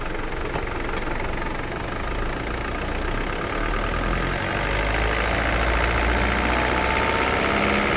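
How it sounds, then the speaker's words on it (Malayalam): A Mitsubishi Pajero SFX engine runs steadily with a rough, knocking clatter, close and constant, swelling only slightly toward the end rather than sharply revving. "നല്ല സൈലന്റ് എഞ്ചിനാ ഒന്ന് റേസ് ചെയ്യാം കേട്ടോ"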